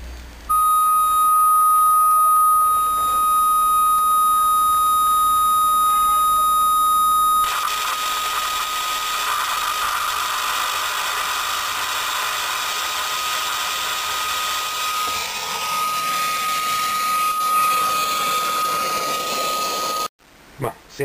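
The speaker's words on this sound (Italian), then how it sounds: "Sembrano scariche sull'orizzontale" Mivar 28-inch CRT television, its horizontal deflection circuit arcing: a steady high-pitched whine with crackling, buzzing discharge noise spreading broadband after a sudden switch-on, continuous and fairly loud, cutting off near the end.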